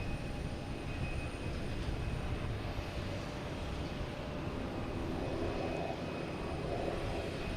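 Boutique Air propeller plane passing close at Boston Logan Airport, a loud continuous engine roar with broadband rumble and drone holding steady throughout, no talking.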